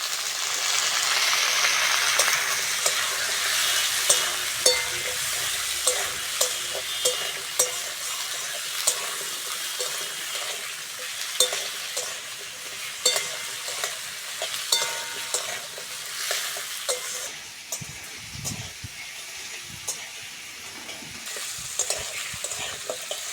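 Tomato and eggplant frying in a pan alongside potato, a steady close sizzle with repeated scraping stirs of a spatula ticking through it, continuing for a long stretch without speech.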